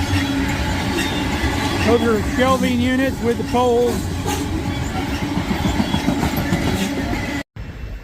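A freight train of coal cars heading east rolls past at close range with a steady rumble and clatter, while someone talks over it before the noise cuts off abruptly.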